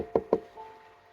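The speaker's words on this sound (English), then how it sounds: "Knock on wood" Two quick, solid knocks on wood, close and loud, followed by a quiet room.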